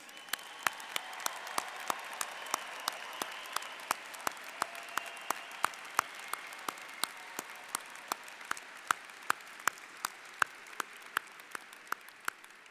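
A large crowd applauds graduating students at a 2017 university undergraduate commencement ceremony, sustained dense clapping with sharp individual claps standing out, steady and continuous for over twelve seconds.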